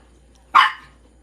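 A single sharp dog bark rings out close by at a home with many dogs, one short loud burst that trails off quickly against a quiet background.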